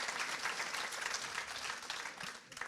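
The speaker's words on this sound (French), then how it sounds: "On peut l'applaudir, effectivement." An audience applauds a guest introduced at a European forum on populism, a dense, steady wash of many hands clapping throughout, fairly quiet and distant with no voices over it.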